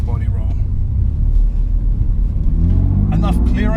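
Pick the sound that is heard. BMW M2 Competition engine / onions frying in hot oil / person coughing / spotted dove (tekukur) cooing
BMW M2 Competition engine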